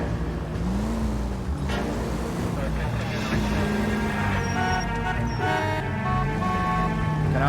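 Car engine hum from a driven car in the video game L.A. Noire, crossing a city intersection, a steady motor drone rising and falling in pitch with faint traffic and music around it.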